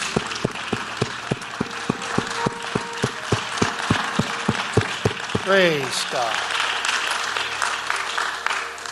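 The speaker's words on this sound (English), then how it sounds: "give the Lord a mighty hand clap of praise" A church congregation claps their hands in praise in a steady, even beat of sharp claps that lasts several seconds. Then a voice calls out briefly and the clapping gives way to a looser, fading murmur of the room.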